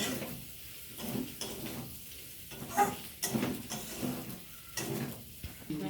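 Pasta with a fried egg stirred in a pan, a soft scraping and clinking of the utensil in uneven strokes over a light, steady sizzle, close by.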